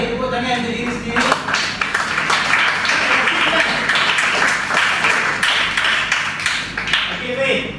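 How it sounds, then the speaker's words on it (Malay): A classroom of students claps for themselves, with a burst of dense, continuous applause close by that fills the room for several seconds, and a teacher's voice heard around it. "tepuk tangan untuk diri sendiri"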